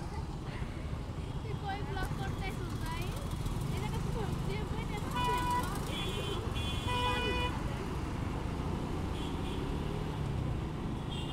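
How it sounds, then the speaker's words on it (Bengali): Heavy traffic jam on a Dhaka flyover, with CNG auto-rickshaws and motorbikes idling close by, a dense steady engine rumble broken by repeated horn toots, while someone talks over it. "এই আপনার অবস্থা বাংলাদেশের ফ্লাইওভার উপরে জ্যাম লাগছে"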